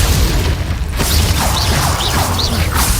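In Hogwarts Legacy, the Glacius spell goes off as a loud magical blast, with whooshing, crackling effects and several rising chirps layered over rumbling game action. No one speaks.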